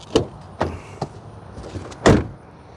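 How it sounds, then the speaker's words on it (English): A 2025 Mazda CX-70 Turbo S SUV door thuds shut with a solid clunk, preceded by a few lighter clicks and knocks of the handle and latch. "let's listen to the sound of the closing door"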